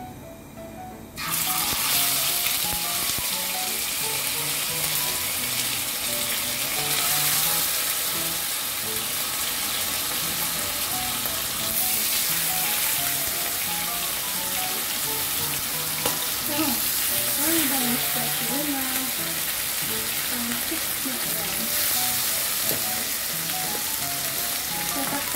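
Milkfish, bangus, frying in a pan until crispy, with a steady loud sizzle and crackle running continuously, plus occasional faint clinks and a soft voice underneath.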